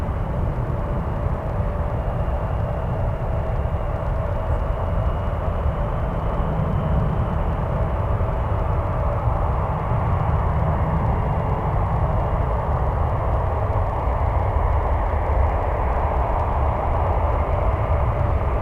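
A Star Alliance Boeing 777 airliner landing at San Francisco airport, a steady broad jet roar that holds at even loudness throughout, heard from a distance with no talk.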